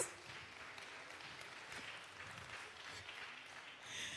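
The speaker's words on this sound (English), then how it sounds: "Applaud the poet, not the raggedy scores." Faint, distant applause from a small audience at a poetry slam after a poet's scores are read, a continuous wash of clapping that swells slightly at the end.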